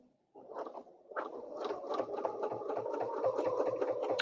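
A sewing machine stitches a quilt on a snowflake ruler quilting project, starting after a brief pause with a quick burst, then running in a steady, close, rapid rattle of stitches.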